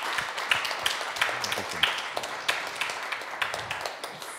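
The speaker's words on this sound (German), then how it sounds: "Dein Applaus." Audience applause at a public talk event, a steady dense patter of clapping lasting several seconds at moderate level, with a faint voice heard briefly beneath it.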